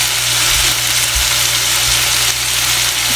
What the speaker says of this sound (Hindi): इसको डाल के बस मैं थोड़ी देर स्टर फ्राई करूंगी